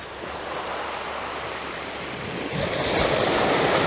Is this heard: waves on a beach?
yes